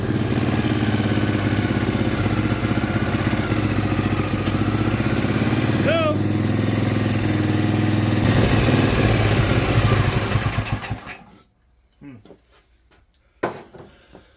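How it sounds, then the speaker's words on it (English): A 1970s snowblower's small engine runs loudly and roughly with the choke on at a steady pitch, sputtering near the end before cutting out, then a couple of brief bursts. "It's running with the choke on right now."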